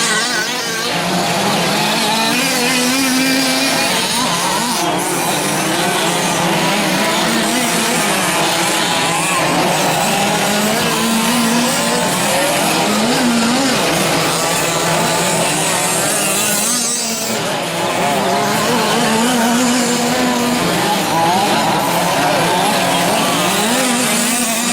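2WD sportsman RC trucks racing around a track in a main event, a constant loud whine of small high-revving motors rising and falling as they pass, steady and dense throughout.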